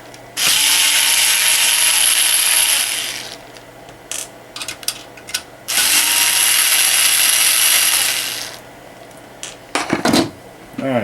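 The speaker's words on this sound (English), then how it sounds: "take out the screws for the motherboard tray" Screws come out of a computer motherboard tray as a power driver whirs in two long, loud bursts of about three seconds each, separated by short clicks and clatters of small parts.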